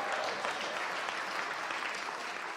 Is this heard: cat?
no